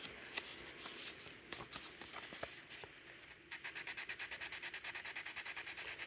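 A Case knife blade is rubbed with 320 grit sandpaper in close, raspy strokes, irregular at first and then settling into a quick, steady back-and-forth rhythm.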